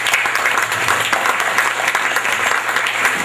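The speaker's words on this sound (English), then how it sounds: "Kindly give him a round of applause." A round of applause from an audience at a financial review services company gathering, greeting the managing director: steady, dense clapping from many people, loud and continuous throughout.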